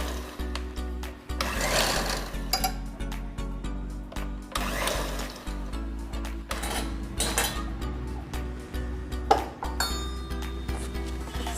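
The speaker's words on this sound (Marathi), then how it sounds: "स्लाइटली ब्लेंड करायचं आहे." A kitchen blender whirs through drumstick soup, a steady motorized hum with clinks and rattles of the jar and utensils, running in short bursts with brief pauses, close and moderately loud.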